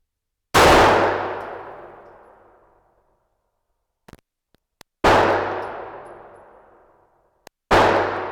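Three loud pistol shots fired at a 10-yard target while zeroing a red dot sight, each a sharp blast with a long ringing decay, spaced several seconds apart with faint metallic clicks and handling noises between them.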